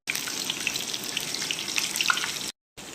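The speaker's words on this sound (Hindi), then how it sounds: "और इसको अब हम करेंगे फ्राई" Gola kabab frying in hot oil makes a steady, close, bright sizzle with fine crackling pops for over two seconds, then breaks off briefly before resuming.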